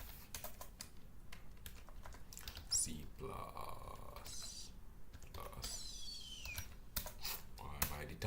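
Rapid keyboard typing while writing code for a Zephyr mutex example, bursts of quick clicky keystrokes, close and fairly soft, interleaved with a person talking.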